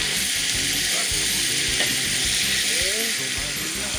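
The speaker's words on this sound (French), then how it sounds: "On va tourner tout ça, bien mélanger. Toujours à feu fort" Chicken pieces fry and sizzle in a pan over high heat, a loud steady hiss under repeated scraping and stirring, with a few faint voices in the background.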